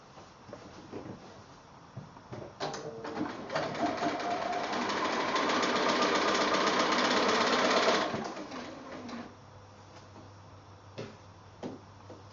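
A sewing machine runs in one continuous burst of about five seconds, stitching quilt squares into a strip for a Kiwiana quilt block, preceded and followed by quiet clicks and fabric handling.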